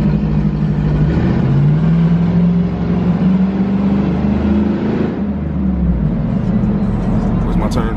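A 2020 Ford Mustang GT with full bolt-ons revving hard through a tunnel, its deep, loud engine note rising and holding steady before easing off, with a voice talking over it.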